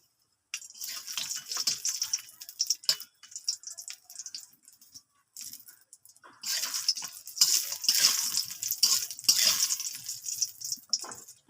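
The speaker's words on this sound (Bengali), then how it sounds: "কড়াতে তেল দিয়ে দেবো। ডালের বড়ি নিয়েছি, খুব ভালো করে লাল লাল করে ভেজে নেবো।" Lentil dumplings (bori) frying in hot oil in a wok, a crackling, bubbling sizzle that comes in bursts with brief quieter gaps, growing denser and louder toward the end.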